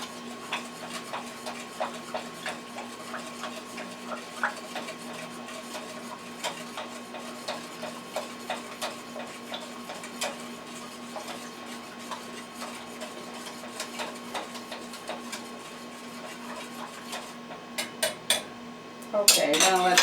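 A spoon scrapes and taps in a pan while mixing pecan coconut frosting with butter, giving repeated close clinks and scrapes in a steady, uneven rhythm, with a louder clatter near the end.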